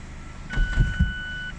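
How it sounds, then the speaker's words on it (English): The electric folding roof of a Mazda MX-5 RF 2.0 Skyactiv-G retracts with a few soft mechanical clunks and a motor whir, while a thin steady electronic tone sounds for about a second, fairly quiet and close inside the car. "if I take this roof down, see, even the hook comes out electrically"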